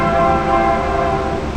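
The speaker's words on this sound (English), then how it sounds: "Sorry about the train." A train passing right beside the tracks sounds a loud, sustained horn, its harmonic blast holding steady and close over a low rail rumble.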